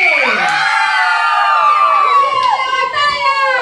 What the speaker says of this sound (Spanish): ¡Que se escuche un grito de júbilo!